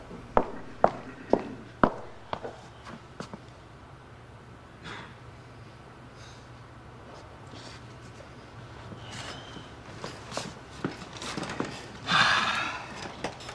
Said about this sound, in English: We can hear them come back from down the hall.